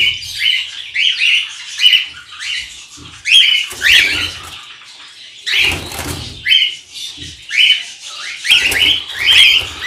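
Cockatiels in a large cage setup give repeated shrill squawks and chirps in bursts, loud and close, with short gaps between calls.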